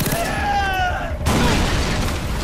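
A grenade blast in the shooter game Far Cry 3, arriving as an abrupt, loud broadband burst midway that replaces a whistling tonal sound and rumbles on through the rest of the clip.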